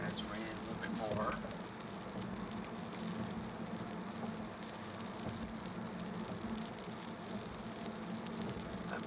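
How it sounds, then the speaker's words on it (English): Rain falling on a moving car on a wide three-lane city street on a Sunday afternoon, a steady wash of noise over the low engine and road hum, continuous and fairly faint throughout. "That's raining a little bit more."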